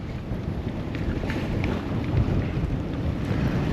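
Wind and sea spray lash a sailboat riding at anchor on a chain, a steady broadband rush with gusty swells and faint splashes, no voices.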